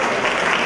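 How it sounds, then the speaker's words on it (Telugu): A live audience at a comedy show claps loudly and continuously for arriving guests, a thick wash of applause with a faint crowd murmur underneath. "వారికి కూడా గట్టిగా చప్పట్లతో"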